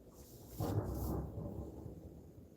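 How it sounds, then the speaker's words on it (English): Thunder rumbles during a stormy afternoon in Rhode Island. One deep, rolling peal swells and fades over a couple of seconds, sounding distant and fairly faint against a soft bed of rain. "I hope you can hear the thunder."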